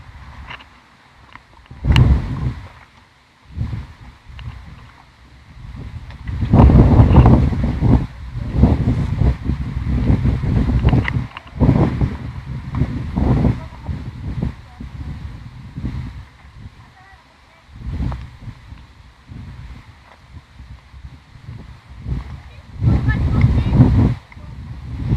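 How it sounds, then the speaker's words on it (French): Strong wind gusting outdoors around foliage at night, roaring in loud, uneven bursts close to the microphone, with people talking intermittently in French over it. "Là tu pourras pas, il y a trop de vent."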